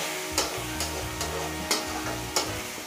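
Garlic paste sautéing in a pan for baingan bharta, a steady close sizzle broken by five sharp scraping strokes of a spatula at roughly even intervals, with no talk.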